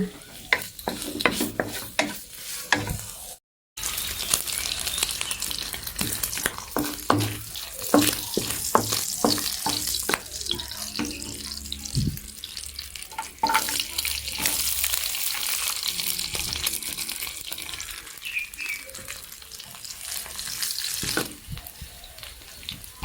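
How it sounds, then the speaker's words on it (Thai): Sliced pork sizzles in a little oil in a pan with a steady, close frying hiss. Scraping stirring strokes recur throughout, and there is one brief break near the start. "ใส่หมูที่หั่นไว้ค่ะ เดี๋ยวเราจะเจียวให้ตัว มันหมูเนี่ยออกมาก่อนนะคะ"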